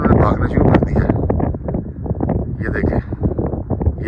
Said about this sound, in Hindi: अब तेज़ हवा चल रही है